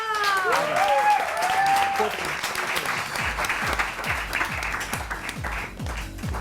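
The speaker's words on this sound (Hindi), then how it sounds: "आओ जल्दी से आओ। तालियां।" Loud crowd applause with cheering voices at first, settling into steady rhythmic clapping that continues throughout.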